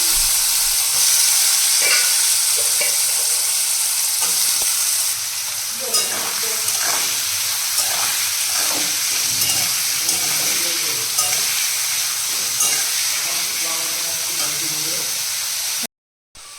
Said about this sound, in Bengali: চলো প্রথমে আলুটা ভেজে নিই